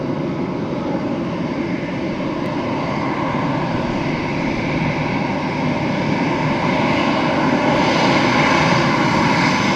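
Aer Lingus airliner landing at Dublin Airport, a loud continuous engine roar with broad rumbling noise that holds steady and swells slightly toward the end.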